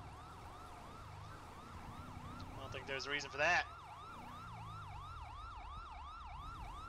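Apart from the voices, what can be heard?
police car siren in video game GTA V LSPDFR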